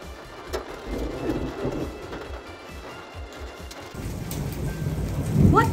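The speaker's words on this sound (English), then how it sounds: "Look at how much it's hailing." Heavy hail and rain pour down during a thunderstorm, a steady dense roar with a louder surge in the final seconds and low rumbling underneath; no talking is heard.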